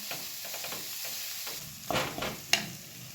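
Khoya milk solids roast in a pan with a spoonful of milk added, heard as a soft, quiet sizzle with scattered scrapes of a spoon stirring and one sharper clink near the end.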